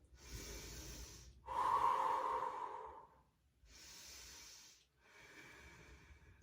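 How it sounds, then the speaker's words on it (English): Slow, deep resting breaths during a yoga flow, four long audible inhales and exhales with soft pauses between them, close and quiet, with no talking. "Take a few resting breaths here."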